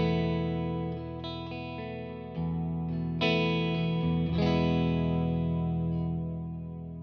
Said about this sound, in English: It's got a nice hall kind of reverb, but it's also kind of like a shimmer reverb